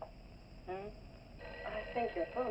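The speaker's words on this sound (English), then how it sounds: "I think your phone is ringing." A telephone in a 1959 office rings in short electronic-sounding trills, fairly faint and under a steady background hiss, with a voice speaking over part of it.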